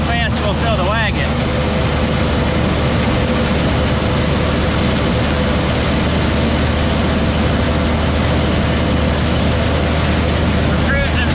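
A John Deere 300 corn picker running while filling a wagon, a loud continuous low engine drone and mechanical rumble throughout, steady and close, with brief squeaky clatter near the start and end.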